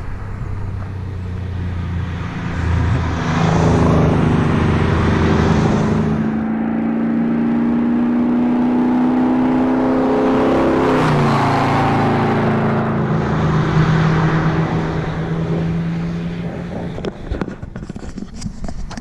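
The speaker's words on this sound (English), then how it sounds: "It's been like 20 Porsches come past real quick." A Porsche sports car approaches and passes on the Mont Ventoux road, its engine note swelling to a steady loud whir and then fading away, with wind noise throughout.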